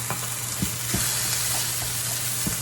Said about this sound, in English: I'm going to stir this up and let it cook down a little bit more